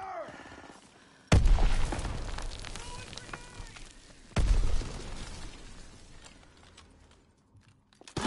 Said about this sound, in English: Stun grenade first.